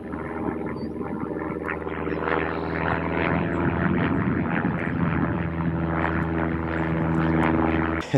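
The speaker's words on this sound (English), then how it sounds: "got another plane going right away above." A propeller airplane passes high overhead on a countryside walk, a steady droning hum with layered engine tones that holds loud and even for the whole stretch, with no voices.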